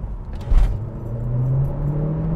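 A Vauxhall Corsa VXR hot hatch pulls hard at full throttle: a loud, close engine drone whose pitch climbs steadily over a couple of seconds under a deep, constant cabin rumble, with no talk.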